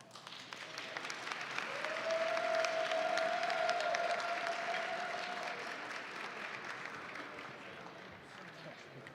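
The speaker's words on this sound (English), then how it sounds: "Big round of applause." Sustained audience applause filling a gala fundraiser hall for the alumni association, steady and dense for the whole stretch with a sustained tone and voices faintly underneath, easing slightly toward the end.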